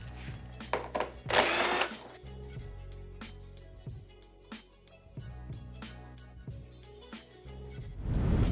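Screws come out one after another around the air duct cover of a tumble dryer, a close run of short clicks, whirs and metallic rattles, with one louder burst early on and no speech.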